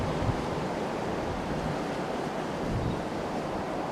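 Strong typhoon wind from Typhoon Dolphin in Okinawa roars steadily with broadband buffeting and gusts, close and loud with no voices.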